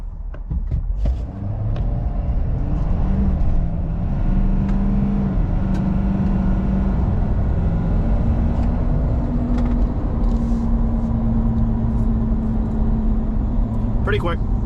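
A Ford Super Duty pickup drives and accelerates, its low engine rumble and road noise steady and close throughout, with a rising drone as it speeds up and a voice talking over it.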